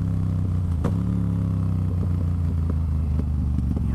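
A motorcycle engine idles and burbles loudly up close, with uneven popping and gargling bangs as the revs settle, no talking.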